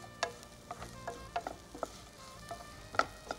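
Bitter gourd and onion sautéed in a pan, with soft scrapes and clicks of a spatula stirring over a faint, steady sizzle, close by with no talking.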